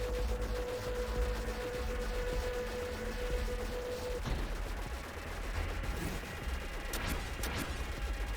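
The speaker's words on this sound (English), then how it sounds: "You're gonna fire your laser." A spaceship in the game Nova Drift fires its laser at a boss: a steady droning beam hums over dense crackling blasts, then cuts off, giving way to rapid explosive bursts and sharp, bright zaps, loud and unbroken throughout.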